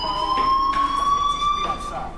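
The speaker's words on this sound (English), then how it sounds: "Hey, do you hear that fire alarm?" A fire alarm rings in the video game Life Is Strange, a shrill steady tone with bright harmonics, heard under a voice talking.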